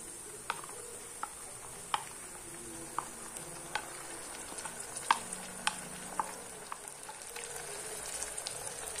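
A spice mixture frying in a pot for mutton nihari paya: a faint, steady sizzle broken by sharp clicks of a spoon stirring against the pot, with no voices.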